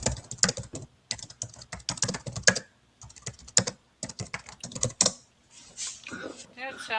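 Fingers type in quick bursts on a laptop keyboard during a tabletop role-playing session, close and crisp clicks with short pauses, followed by a person speaking at the end.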